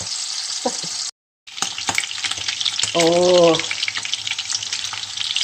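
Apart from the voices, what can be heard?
pork ribs sizzling while frying in a pan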